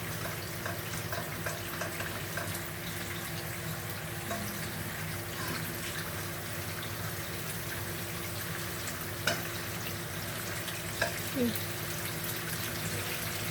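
Coconut cream for latik simmers and is stirred in a pan, a low bubbling sizzle with faint scrapes and a couple of utensil knocks, under quiet talk.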